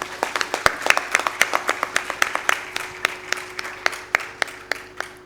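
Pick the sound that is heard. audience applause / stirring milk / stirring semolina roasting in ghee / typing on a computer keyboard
audience applause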